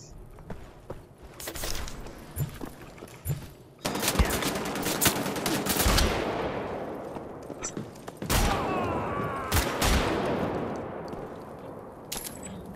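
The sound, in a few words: shotgun firing in the video game Wolfenstein: The Old Blood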